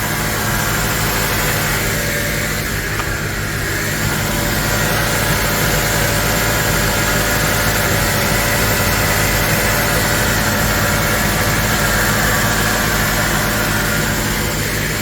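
A Honda Element engine idles steadily up close, a constant low rumble and vibration running unbroken with no voices over it.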